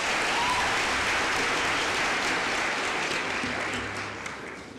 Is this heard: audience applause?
yes